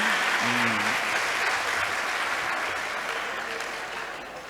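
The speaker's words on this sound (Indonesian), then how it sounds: "Terima kasih, tepuk tangan." A hall audience at a vocational school (SMK) student showcase event in Jombang breaks into dense, sustained applause, a steady wash of many hands that stays loud and tapers slightly toward the end.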